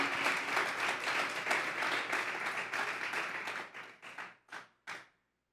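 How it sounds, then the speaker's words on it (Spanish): A church congregation gives loud, sustained applause with dense overlapping claps, then it tapers off into a few last scattered claps and silence. "Fuertes aplausos para Dios en esta hora."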